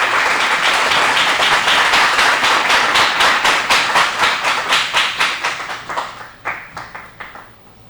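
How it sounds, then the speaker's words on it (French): Audience applause at a Haitian school quiz competition, a loud dense burst of clapping that thins into scattered individual claps and fades toward the end. "Sur vos applaudissements, s'il vous plaît."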